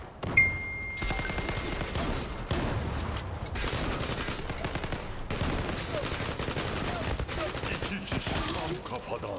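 Rapid AK rifle gunfire in the online shooter Zula, dense bursts of automatic fire running almost continuously with short breaks, loud and close, mixed with other battle noise.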